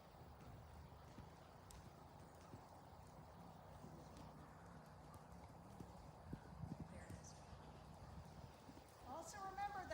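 Trotting horse hooves during a riding lesson, quiet and somewhat distant rhythmic clip-clop beats that carry on steadily through the whole stretch, with an instructor talking over them.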